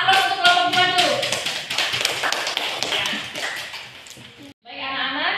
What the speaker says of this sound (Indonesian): Kita aplaus untuk kelompok 2 dulu.